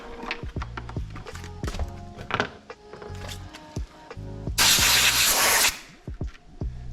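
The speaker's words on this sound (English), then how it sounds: "And now let's blow out our air filter." Compressed air hisses loudly in one steady burst of about a second, blowing out the air filter of an Audi Q7 during a home oil change, with nearby clunks and handling noises before and after.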